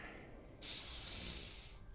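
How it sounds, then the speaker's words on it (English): In Honkai: Star Rail, a character takes one long, airy sniff that rises out of a soft background hum and lasts just over a second, with no speech. "Big sniffs."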